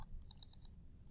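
A quick run of four faint computer mouse clicks in close succession, small and crisp over a quiet room hum.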